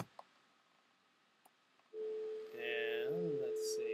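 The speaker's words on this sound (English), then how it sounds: "Got a dial tone." A steady telephone dial tone from a MagicJack VoIP line switches on partway through after near silence, heard through a speakerphone, with a few quick button clicks and tones layered over it.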